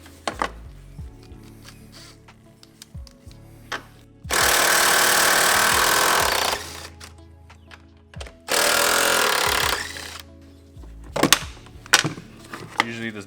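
Strut nuts being removed with a power tool during a lowering spring install on a BMW E60 M5, heard as two loud, steady buzzing bursts of about two and a half and one and a half seconds, with clanks and light handling noises between them.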